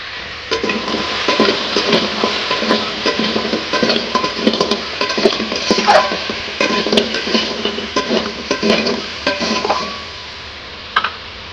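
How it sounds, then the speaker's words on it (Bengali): Crabs coated in salt and turmeric fry in a wok while a utensil stirs them, giving repeated scraping clatters over a faint sizzle that fade out, followed by one last clink. "সেই কাঁংড়াগুলো এখন কড়াতে দিয়ে দিচ্ছি।"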